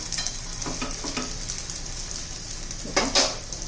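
Sabudana appe cook on low gas in an appe pan, giving a soft steady sizzle and frying crackle, with a few light scraping and stirring touches and a brief metallic clink of the pan near the end.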